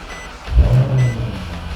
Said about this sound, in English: Once you start the car, Maserati screen comes up